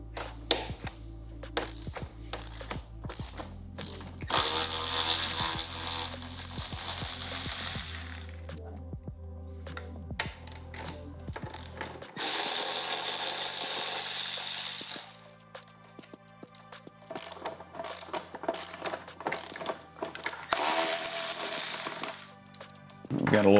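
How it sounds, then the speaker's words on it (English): A 10 millimeter socket on a ratchet removes the headlight bolts of a 2018-2023 Indian Roadmaster or Chieftain motorcycle, giving rapid clicking pawl bursts alternating with long hissing noise stretches, close and fairly loud. "now we're gonna take out these three bolts that hold our headlight in. This is gonna be a 10 millimeter socket."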